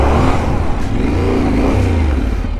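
A Yamaha Tenere adventure motorcycle revs off-road as the clutch is eased out and throttle is fed in, its engine a loud, steady rising drone held close for the whole stretch, with no voices over it.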